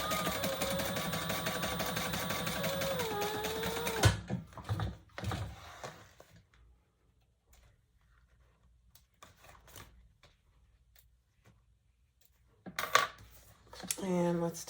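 Sewing machine stitching under a card slot of a purse, a steady mechanical whir with a clear rising pitch for about four seconds, then quiet handling clicks and rustles, and another short burst of machine noise near the end.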